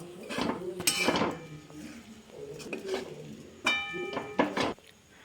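Utensils clatter and scrape in a pan while poha with added lemon juice and vegetables is mixed, giving bursts of clinks and metallic knocks separated by quieter pauses, close and fairly loud with no talk.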